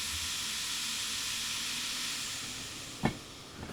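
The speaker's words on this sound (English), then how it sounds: "Start to release the train brake as we bring the throttle up." Train brake releasing in the railway simulator game Derail Valley, a steady broad air hiss held for about three seconds before easing off, with a brief clunk near the end.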